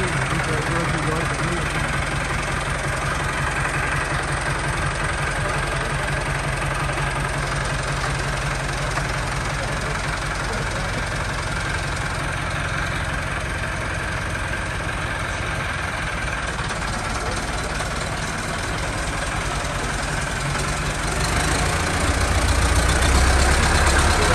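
A new 385 tractor engine idles loudly and steadily right beside the listener, a continuous low diesel rumble that swells slightly near the end. Voices can be heard faintly under the engine.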